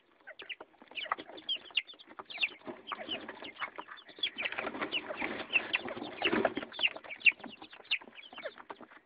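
A flock of month-old chicks and young roosters in Muğla cluck and peep in a rapid, overlapping chatter that swells in the middle and stays fairly close, with no human voices.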